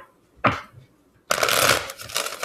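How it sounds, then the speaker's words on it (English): A quick riffle of tarot cards, then a longer, louder shuffle lasting about a second, close up with no talking. "Just gonna do couple more shuffles here."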